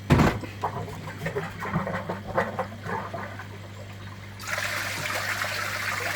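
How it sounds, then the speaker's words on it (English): Water trickles and gurgles through a pond pump and UV sterilizer setup, with a low steady hum beneath, then a stronger, steady rush of flowing water starts partway through. "Water's now coming, getting sucked in through there, taking all that surface debris off the top"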